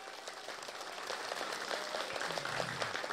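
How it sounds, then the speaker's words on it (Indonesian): Scattered clapping from a village crowd at a quiz event in Kemoning, Klungkung, Bali, moderate and steady, without any voices over it. "Lebih keras dulu dong tepuk tangannya."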